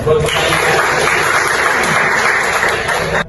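Dense, steady clapping from an audience at a university lecture session, loud and even for the whole stretch before cutting off abruptly.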